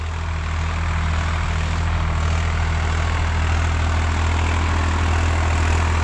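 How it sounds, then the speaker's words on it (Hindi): A 2023 Swaraj 855 FE tractor engine runs in a farm field, a steady, loud, low diesel drone with a constant deep hum and no talk over it. "ट्रैक्टर का एक राउंड पूरा हो गया"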